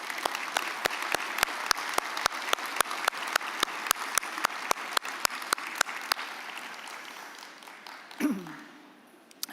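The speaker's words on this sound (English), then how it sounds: "A round of applause." Audience applause at a conference lunch. One nearby pair of hands claps sharply and evenly over a steady bed of crowd clapping, and it all fades out after about eight seconds.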